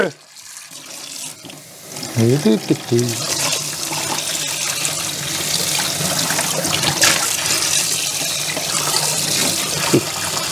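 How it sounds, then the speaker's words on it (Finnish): Kitchen tap opened while making coffee, water running steadily from about two seconds on and continuing to the end, fairly close, with a voice speaking briefly over it. "Sitten hana auki näin, Hana auki!"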